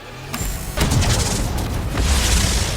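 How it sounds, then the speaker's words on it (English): Fireworks go off in a rapid series of loud booms and crackling bursts, with dense overlapping blasts and explosive noise filling the whole stretch without speech. "Suddenly, they just so happened to have fireworks."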